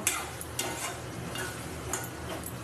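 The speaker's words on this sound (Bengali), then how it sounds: "এবার আমি ভালো করে এটা দিয়ে কষিয়ে নেব" Already-fried chicken pieces sauté with spices in a pan, a low continuous sizzle broken by a few light scraping and tapping stirs of a spoon against the metal.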